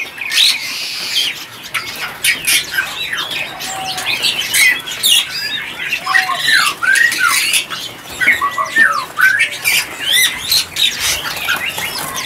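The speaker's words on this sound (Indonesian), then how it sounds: "Kacer jantan dewasa dan trotolan ya." Oriental magpie-robins (kacer) in a bird shop, a dense chorus of loud, sharp chirps, squawks and whistles with occasional wing flutters, continuous and close.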